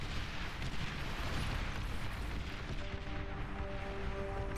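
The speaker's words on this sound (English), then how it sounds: "Oh no, your ally got nuked." A massive nuclear blast in the strategy game Beyond All Reason, heard as a dense, continuous roaring rumble with crackling debris throughout, loud and sustained, fading slightly near the end.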